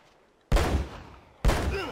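Two loud, booming gunshots in the video game Uncharted, about a second apart, each with a long rumbling tail, sounding like heavy weapon fire.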